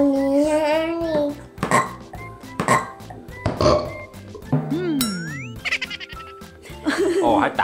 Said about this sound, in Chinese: 还打了个嗝